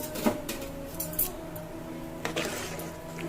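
A spoon scrapes and clinks against a cooking pot while rice and lentil khichuri is stirred, with a few light metallic taps and soft wet shuffling at low volume.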